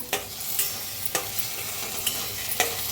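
Roasted masala frying in oil in a kadhai for a shev bhaji, stirred with a spoon; a steady sizzle runs underneath, broken by several sharp scrapes and clinks of the spoon against the pan.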